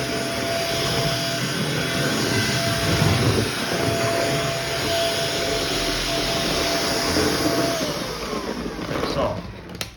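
A stick vacuum cleaner runs continuously close to the microphone in a small house, giving a loud, steady whine with slight shifts in pitch before it cuts off near the end.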